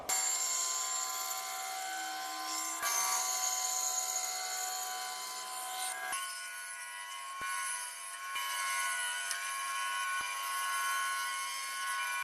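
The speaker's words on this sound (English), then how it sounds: "we've got to cut all this middle piece out now. And for that, we'll come over to the bandsaw." A bandsaw cutting through wood to shape a tusk wedge, a steady high whining drone with shifting tone as the blade works through the piece, continuous and close.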